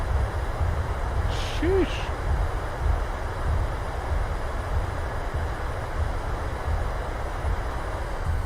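An airliner's thrust reversers roar on the landing rollout in Microsoft Flight Simulator, a steady broad rumble that fills the whole stretch, with a short spoken exclamation over it.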